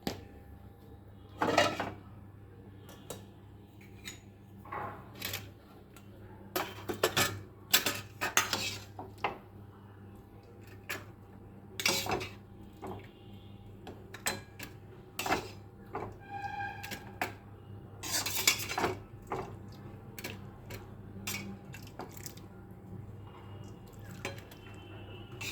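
Curry ladled out of a pot in a home kitchen making luchi and vegetable curry, with intermittent close clinks and scrapes of metal utensils against pots and dishes.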